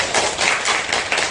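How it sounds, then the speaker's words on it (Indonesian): Dense, steady applause from a crowd at a protest rally outside a regency office, filling the whole moment with no voices over it. "tepuk tangan dulu"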